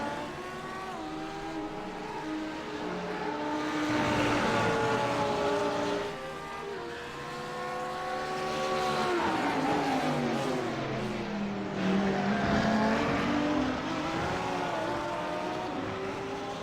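Audi and Porsche GT3 race cars at Lime Rock running through a chicane, engines rising and falling in pitch as they pass, with overlapping high revving tones and steady loud roar throughout.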